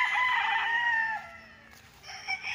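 Farm chickens on a one-hectare lot in Liliw, Laguna, clucking with a rooster crowing, fairly close and loud, with a brief lull before the calls pick up again.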